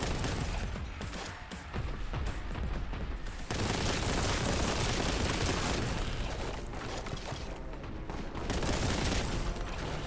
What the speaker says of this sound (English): just a few extra shots on that pink demon